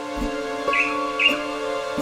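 A male Swallow-tailed Manakin (tangará dançador) in Serra dos Órgãos National Park, Brazil, calls insistently to summon other birds: two bright, high chirping calls about half a second apart over a steady humming background.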